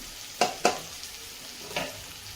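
A dry spinach stir-fry with peanuts is mixed in a pan with a few distinct scraping stirs, two close together and one later, over a faint background hiss and no talk.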